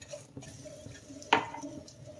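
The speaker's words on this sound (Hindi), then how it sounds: "अब हम इसमें पहले पानी डालेंगे।" Water poured into golden roasted semolina in a pan while making fig halwa gives a brief hissing splash, loud for a moment over quiet kitchen background.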